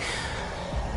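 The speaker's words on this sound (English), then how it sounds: "It's breathing." A creature in Honkai: Star Rail exhales in a breathy, rushing gasp, a close, noisy breath sound lasting about a second with a short snort-like surge at the end.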